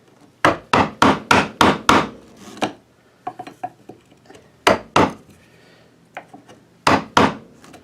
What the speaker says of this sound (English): I'm chiseling this stuff.